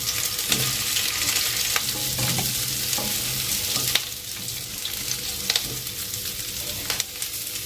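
Thickly cut onion and capsicum fry in a pan with a steady close sizzle, broken by stirring strokes and occasional utensil knocks, with no talk.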